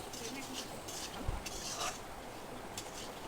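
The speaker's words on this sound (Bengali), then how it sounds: "এবার খুব ভালোভাবে কষে নেব মশলাগুলোকে" Faint spatula scrapes and stirring in a pan as mutton masala with chopped tomato and spices is cooked down in oil, with a few clinks of metal against the pan over a low background hum.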